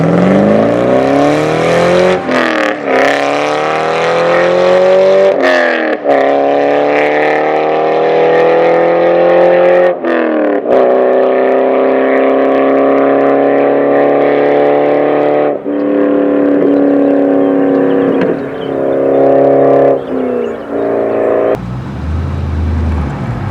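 Chevrolet C5 Z06 Corvette with a stock LS6 V8 and short transmission gearing accelerating hard: loud, close engine roar climbing through several gears, each pull rising in pitch before brief breaks for shifts.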